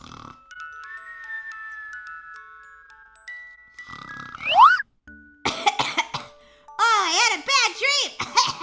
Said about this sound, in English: Both have a little bit of a cough.